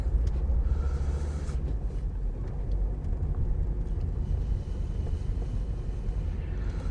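A car drives through Tonbridge high street in a 20 mph zone, heard from inside as a steady low rumble of engine and road noise with faint clicks, continuous and without talk.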